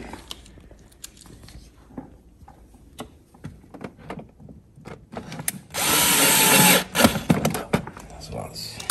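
A power drill drives a small, short screw while a SOG floor-variant vent is fitted to the camping toilet in a Weinsberg Pepper motorhome. One loud, steady whir lasts about a second, surrounded by scattered clicks and handling knocks.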